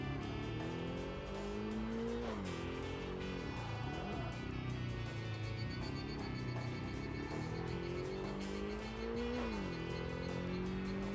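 Tires screech and skid under locked brakes in the racing video game Tokyo Xtreme Racer: Drift 2, long wavering squeals over a loud revving engine, continuous and close, with no talk.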